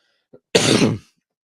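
A single short, harsh cough bursts out close by after a tiny throat sound, then silence.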